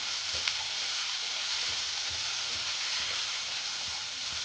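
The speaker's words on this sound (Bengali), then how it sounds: "আলুটাকে এখন একটু হলুদ দিয়ে দেবো, দিয়ে খুব সুন্দর করে লাল লাল করে ভেজে নেব।" Potatoes fry with turmeric in a pan for ghugni, giving a steady, soft, continuous sizzle with no talk.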